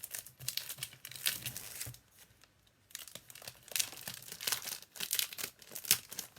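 A pack of designer series paper being opened, giving continuous close crinkling and tearing of plastic wrap with rustling bursts and a brief quieter pause in the middle, no talking.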